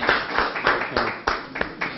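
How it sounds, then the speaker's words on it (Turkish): People clapping during a council meeting, giving brief, uneven bursts of applause that sound fairly close and a little muffled. "Alkışlayın bugün."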